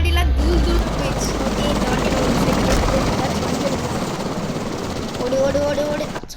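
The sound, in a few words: helicopter flying in a Spider-Man video game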